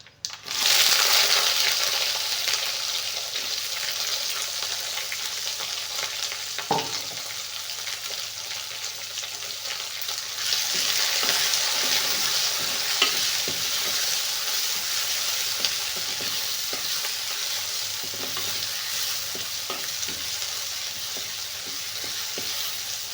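Chopped small onions hit hot oil with dried red chillies in a pan, giving a loud, steady sizzle and frying hiss with occasional stirring clatter.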